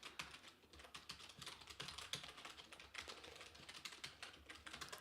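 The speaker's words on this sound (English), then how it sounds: "Sorry about the typing as well." Gentle typing on a computer keyboard, close and quiet, with a rapid, uneven stream of soft key clicks running continuously with no voices.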